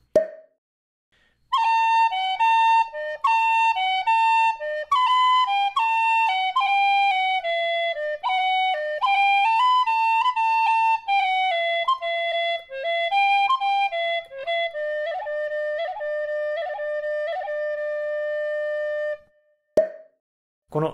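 A rare chromatic tin whistle by Music Morneau, a drop C model, plays a solo melody of clear, pure sustained notes and quick ornaments for about seventeen seconds, close and bright, with silence before and after.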